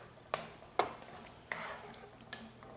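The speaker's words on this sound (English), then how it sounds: "So we'll just stir those in." A spoon stirring keto chili in a pot: four soft, separate clinks and scrapes about half a second to a second apart, faint and close, with a gentle background hum.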